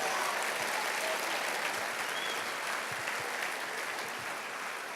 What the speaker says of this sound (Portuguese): Se é para Jesus, faça bem forte, aplauda Ele.